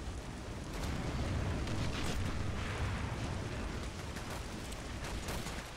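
Artillery guns fire at enemy tanks in a 1944 Allied offensive battle in France in the strategy game В тылу врага 2, heard as a faint, continuous rumble of distant blasts and scattered shots.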